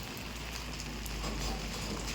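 Sudden rain, a steady, soft patter of drops on surfaces that holds evenly through the short clip with no talking.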